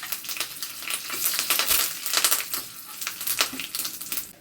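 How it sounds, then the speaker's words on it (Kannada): Curry leaves, mustard seeds, cumin and urad dal crackling in hot coconut oil for a tempering, with a busy, close spitting sizzle and fast pops throughout, no talking. "ನಾನು ಕೊಬ್ಬರಿ ಎಣ್ಣೆ ಹಾಕಿದೆ ಒಗ್ಗರಣೆಗೆ"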